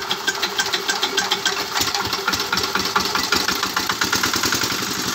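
An old 3000-watt generator dynamo engine idles steadily close by, with a rapid, even chugging pulse and a rough metallic clatter, heard alone with no talk.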